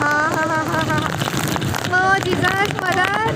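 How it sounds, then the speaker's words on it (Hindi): Heavy rain pours down near a petrol station, a dense steady hiss filling the whole stretch while a voice talks over it close by. "ये देखो क्या तेज़ बारिश हो रही है यहाँ पे"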